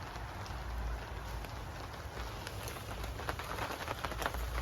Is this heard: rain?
yes